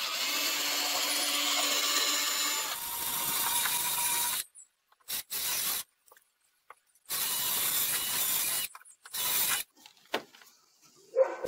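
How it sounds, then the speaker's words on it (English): A jigsaw cuts a keyway through a cargo trailer wall for a porthole window, buzzing steadily for a few seconds, then breaking into short bursts and stops with quiet gaps between them. "Here I'm using a jigsaw to cut out the keyway."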